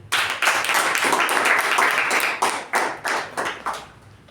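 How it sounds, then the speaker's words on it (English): A small Toastmasters meeting audience claps steadily and close by, the applause thinning into a few scattered, separate claps toward the end. "please give a huge round of applause for our evaluator"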